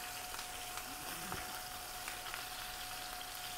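Chicken thighs searing in a pan give a soft, steady frying hiss and crackle with a few faint pops, quiet and unbroken throughout, with no one talking.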